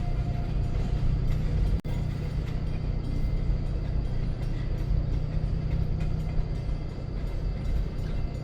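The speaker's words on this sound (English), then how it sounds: "They've got to slow the head of the train down." A freight train rolls nearby, a loud continuous low rumble of wheels and cars with a sharp clunk early on, steady mechanical clatter throughout.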